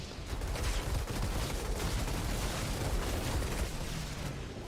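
Torment and Agonies guns firing in the shooter Outriders make a continuous, loud barrage of rapid shots and booming impacts, dense and unbroken throughout, with no voices.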